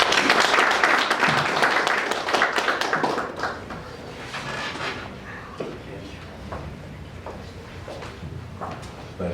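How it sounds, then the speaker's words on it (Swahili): An audience at a graduation ceremony applauds as a speaker from Ajira Digital is welcomed: dense, loud clapping that thins out and fades after a few seconds, with some voices underneath. "Makofi kwake."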